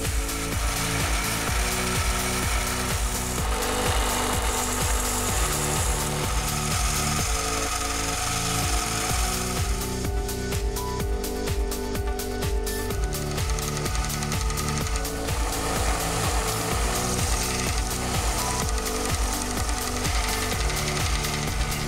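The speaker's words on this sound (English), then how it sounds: "I use the belt sander and the filing machine to bring it closer to the line." Belt sander and filing machine shaping a metal workpiece for a finger plate clamping tool in a home machine shop, a loud continuous rhythmic chattering and grinding with regular repeating strokes, no talking.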